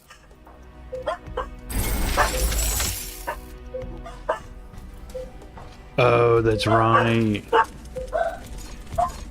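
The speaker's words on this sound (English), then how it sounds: "Couldn't tell you what they're barking at." Dogs bark in The Riftbreaker game amid in-game noises, with a sharp shattering burst and short yips scattered across the clip, while someone talks.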